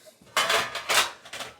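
Metal plates and dishes clatter in a few bursts as they are handled and set down, close by and moderately loud, with no talking.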